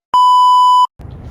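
Phone alert when storage runs out: a single loud, pure electronic beep lasting under a second, followed by a brief low rumble of handling noise.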